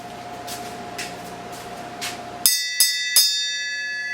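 Three bright metallic bell rings in quick succession, each strike sustaining a sustained shimmering tone, in a shop where a steady compressor hum and scattered clatter precede them.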